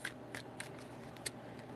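Tarot cards being shuffled in a few quick, soft riffles and slaps, close and quiet, with short pauses between each burst.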